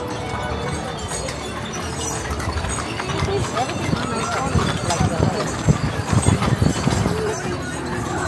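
Hooves clip-clop steadily from a horse-drawn stagecoach ride at Knott's Berry Farm, rising and growing louder with rattling wheels and crowd noise around, while people talk nearby.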